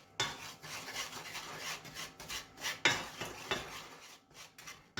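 Sugar is stirred in a pot as it caramelizes, with repeated scraping and rubbing of a utensil against the pan in an uneven close rhythm, no talking.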